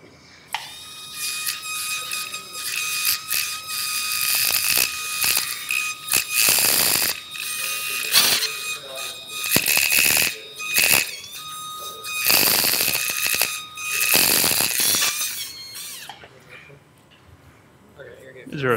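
A surgical drill whines in repeated high-pitched bursts during a neurosurgery lab demonstration of the approach to the fourth ventricle, thinning bone. The bursts start and stop in an irregular rhythm and are loud and close.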